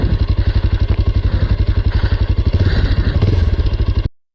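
A Bajaj Pulsar 220F with its 220cc engine runs close by, a loud, fast, even thumping exhaust pulse that swells slightly toward the end before cutting off abruptly.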